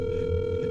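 Phone ringing tone in Lethal Company: one steady electronic tone, sustained and fairly loud, heard alone.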